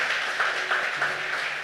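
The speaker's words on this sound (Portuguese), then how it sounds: "Vamos aplaudir Jesus pela vida deles?" Applause from a church congregation, a steady, even wash of clapping throughout, moderately loud and without any talking.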